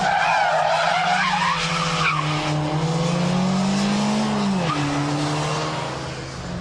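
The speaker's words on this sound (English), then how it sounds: "The handbrake turn to go backwards, and then follow that with a reverse flick." A front-wheel-drive car does a handbrake turn to go backwards and then a reverse flick. The engine revs loudly while long tyre squeals sweep up and down, and the skids fade as the move ends.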